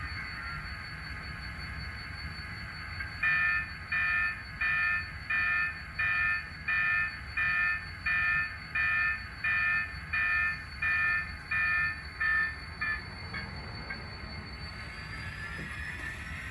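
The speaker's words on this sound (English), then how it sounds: "as the train's leaving" A Milwaukee Road SDL 39 locomotive pulling a couple of boxcars and a caboose sets off, its horn or bell sounding in a steady run of about a dozen evenly spaced bursts over a low rumble, then falling away.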